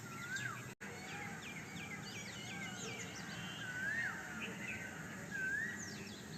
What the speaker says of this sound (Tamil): மயில் மயில் குரல் கேட்குதா?